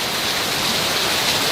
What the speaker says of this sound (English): yeah, it's really raining, huh?